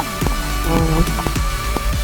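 Rainy-season downpour in a Thai outdoor setting, a steady close patter of rain on surfaces with scattered louder drips and splashes throughout.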